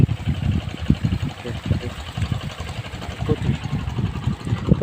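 A Kubota RD 85-2S tractor engine chugs in a steady pulsing rhythm while ploughing a wet rice field, close and fairly loud, with no talk over it.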